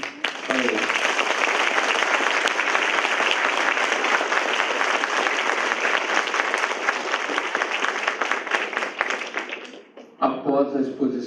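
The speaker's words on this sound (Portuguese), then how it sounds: "e que todos dessem uma salva de palmas para eles" Audience at a mock trial applauding the accusers and defenders, a long, loud, dense round of clapping that fades out near the end before a voice resumes.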